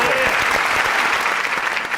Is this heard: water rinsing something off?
no